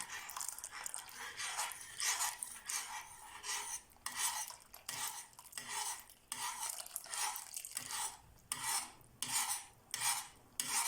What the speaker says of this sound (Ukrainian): І помаленьку вливаємо його у всю масу і швиденько перемішуємо.